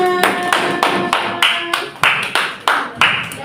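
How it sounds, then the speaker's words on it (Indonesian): A small group claps hands in a classroom coaching session, in uneven bursts of sharp claps with brief gaps between them, close and fairly loud. "tepuk tangan dulu buat kita semuanya"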